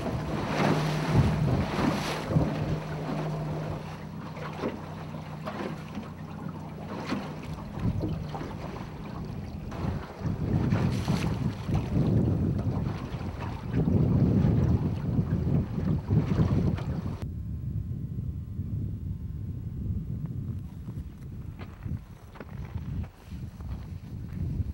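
A boat motor drones steadily on open water, mixed with heavy wind buffeting and the wash of waves, loud and continuous throughout.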